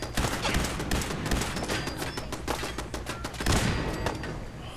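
A turret in Fallout 4 unleashes rapid, dense bursts of automatic gunfire, loud and nearly continuous with brief swells.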